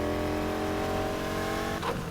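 A race car engine in the video game Need for Speed Heat, revving steadily with a throaty, even drone and a brief flutter near the end, heard alone at moderate volume.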